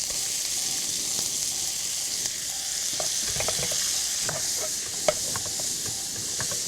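Beef and garlic frying in a pan, a steady close sizzle with scattered pops and stirring scrapes throughout.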